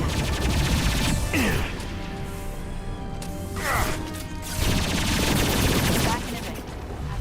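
Gunfire in the video game Mass Effect 2 on hardcore difficulty, a dense, continuous battle din of rapid shots and impacts with brief lulls, loud and close, under intermittent game voices.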